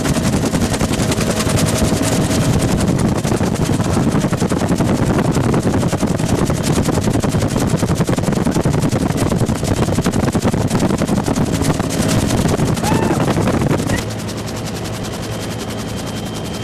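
Loud, steady rotor thumping and turbine roar from a helicopter flying over Dayton International Airport during an air show, heard from inside the cabin for about 14 seconds before the level drops slightly as the flight continues.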